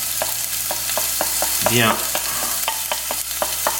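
Garlic and shallot hit a hot saucepan with a steady close sizzle, while a utensil scrapes and stirs in regular taps and a brief gurgling flare rises midway through.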